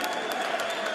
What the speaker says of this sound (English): Jason Easton, who leads the applause for Steve Jamoye